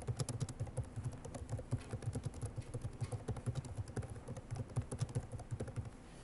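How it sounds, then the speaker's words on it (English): Steady typing on a computer keyboard, with dense rapid key clicks running throughout at moderate, close level and no voices. "I'm going to find on my keyboard here."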